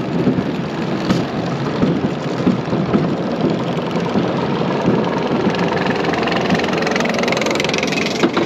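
Force One roller coaster at Schwaben Park accelerating up its lift hill, a steady loud rumbling drone of chain and wheels, continuous and close from onboard, with no voices.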